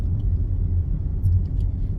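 Low rumble of road traffic with car engines, a steady broad drone close by with no distinct single vehicle standing out.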